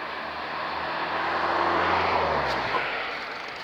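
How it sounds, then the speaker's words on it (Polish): An old Fiat car drives past outside, a broad engine and tire rush that swells to a peak midway and then fades as it moves away. "Jedzie jakiś Fiat stary, który dajmy przejechać."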